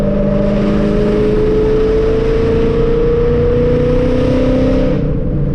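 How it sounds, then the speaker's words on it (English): Ford Mustang S197 engine driving through woods, a loud continuous exhaust roar held at steady revs, up close, with no other sound. "this car sounds so crazy through the woods."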